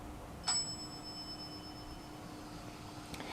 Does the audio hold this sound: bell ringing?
yes